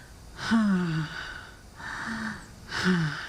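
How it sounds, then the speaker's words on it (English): Three slow, breathy open-mouth exhales in ocean-breath style, like fogging a mirror, each a soft voiced 'haa' heard up close and quiet, separated by brief pauses. "that is the sound of the ocean, the great sound of breath"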